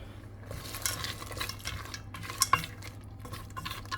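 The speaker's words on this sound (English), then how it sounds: "All of that into the coconut rice. That's going to give it a stir." Coconut rice with mixed vegetables stirred in a pot, a spoon scraping and clinking against the metal in irregular strokes over a low steady hum.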